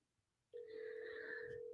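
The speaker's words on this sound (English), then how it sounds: "I'm getting a phone call" A phone ringing with an incoming call, a steady electronic tone starting abruptly and holding, close and fairly quiet.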